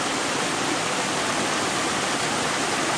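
Stream water near a waterfall in the forest at Pachmarhi rushes in a loud, dense, unbroken roar that fills the space close by, with no voices over it.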